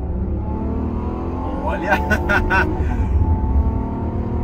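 A Honda Accord 3.5 V6 accelerates hard, its engine revving up loudly and close with a climbing roar and a burst of rapid gear-change pulses midway, while a person speaks briefly over it.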